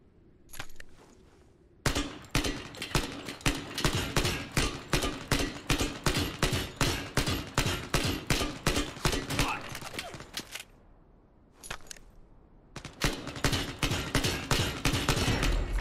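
Gunfire in the shooter game Lost Light 2: a few single shots, then a long run of rapid, evenly spaced sharp reports, a pause, one short burst, and another rapid string, loud and close.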